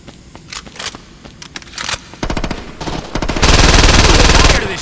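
Gunfire in a video game: scattered sharp shots at first, then dense rapid bursts building into a loud sustained volley, close and alone without talk.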